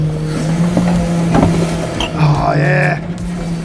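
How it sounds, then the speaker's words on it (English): Hydraulics on a recycling garbage truck whine and hum steadily at close range, with a rising mechanical tone near the end and a voice speaking briefly over it. "It's all the hydraulic hoses working."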